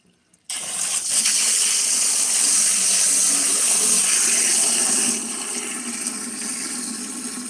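A 1960s toilet with a flush tower and handle flushes in a strong, steady rushing gush that starts abruptly, holds loud for several seconds, then eases into a softer refill flow.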